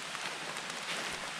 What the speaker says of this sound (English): Been raining all day.